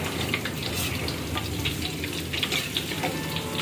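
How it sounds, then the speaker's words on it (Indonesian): Tempeh fries in a pan with a steady, dense sizzle and crackle that runs unbroken throughout, with light stirring noises and no voices. "Goreng tempe arepe ngoseng kacang iki."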